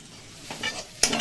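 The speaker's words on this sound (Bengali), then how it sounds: "ভাজা মশলাটা দিয়ে আমরা একটু ভালো করে আবার একটু নাড়িয়ে নিচ্ছি।" A spatula scrapes fried spice mix around a pan in a couple of short, close strokes, the second sharper and louder, with no voices.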